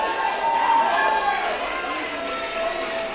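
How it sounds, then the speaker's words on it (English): A wrestling match crowd roars and cheers loudly in a sustained wash of noise, with a voice talking over it. "the crowd is blowing the roof off this place"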